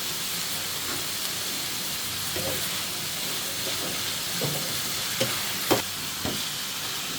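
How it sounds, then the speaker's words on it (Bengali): Bitter gourd with potato frying in a pot with salt and turmeric, a continuous hissing sizzle broken by scattered clinks and scrapes of stirring. "হাঁড়িতে নাড়াচাড়া করে এটা ভাজি করতে থাকবো"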